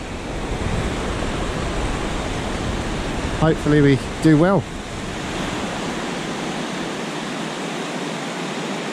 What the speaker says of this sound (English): small waves.